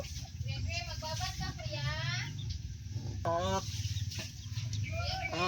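Chickens clucking nearby in short warbling bursts, repeated several times, with people talking in the background.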